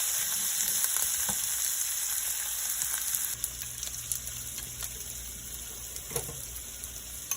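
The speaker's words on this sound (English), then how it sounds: "I have a little butter and garlic sauce I'm going to pour over in there. Let that cook for a little minute." Seafood cooks in butter and garlic sauce with a steady sizzle, close and moderately loud, with a few utensil clicks. The hiss softens slightly partway through as the sauce settles.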